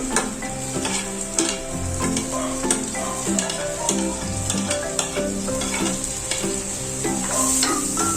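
Carrots, capsicum, spring onion and green chilli fry in butter in a pan, a loud steady sizzle with repeated scraping stirs and utensil knocks, no talking.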